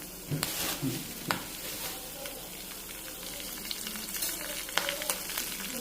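Dried red chilies, asafoetida and curry leaves crackle and sizzle in hot oil for a gonguura dish, a steady close frying hiss with sharp pops and spoon stirring clicks scattered throughout.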